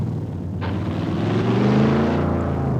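Car engine in a racing video game at its stock, unmodified sound, a steady loud droning rumble that swells and rises in pitch as it revs, heard alone without voices.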